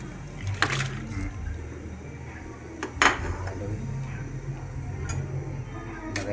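Fish going into a pot of boiling broth while cooking a Filipino fish soup, with a few sharp metallic clinks and splashes over a steady bubbling, close by.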